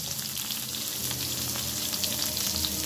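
Papaya, green banana and potato pieces frying in hot oil, giving a dense, continuous crackling sizzle throughout, close and fairly loud.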